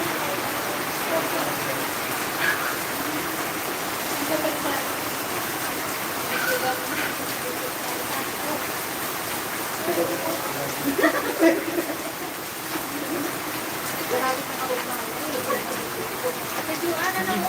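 Heavy rain falling steadily in a home setting, a dense continuous hiss at moderate level throughout with a slight swell toward the end, while people talk faintly in the background.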